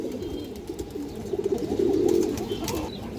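A one-year-old female pigeon of a fancy Bengali breed gives a soft, throaty coo, rising into a longer rolling call near the middle, close by and alone over faint background noise.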